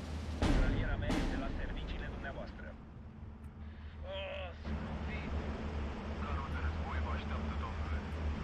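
Gunfire and artillery in the Steel Division 2 war game as units open fire: two sharp, loud blasts close together near the start, then a lower rumbling battle bed with scattered shots, a brief tonal whine in the middle.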